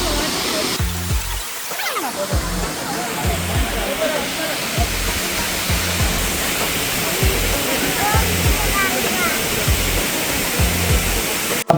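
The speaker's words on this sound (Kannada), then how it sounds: "ಫೈನಲಿ ಒಂದು 10 ನಿಮಿಷ ನಡೆದ್ಮೇಲೆ ಫಾಲ್ಸ್ ಸಿಕ್ತು" Abbi Falls in Madikeri, Coorg, roars as a steady, loud broadband rush of falling water, continuous throughout with a brief dip near the start.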